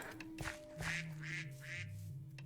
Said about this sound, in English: Quack, quack, quack.